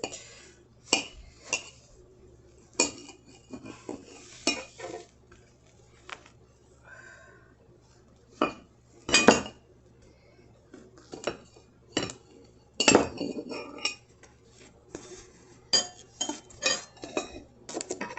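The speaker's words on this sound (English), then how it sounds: "I have to cut them open and mush the middle." Hot baked potatoes are cut open and their middles mashed with cutlery. Irregular clinks and scrapes of metal against the plate come in short bursts with quiet gaps between them.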